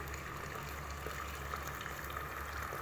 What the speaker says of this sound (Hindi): ये मैंने थोड़ा सा इसके अंदर पानी ऐड किया है,